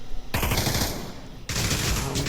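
Rapid automatic gunfire rattles in a VR shooter match, two dense bursts of repeated shots close up, separated by a short pause, with no voices.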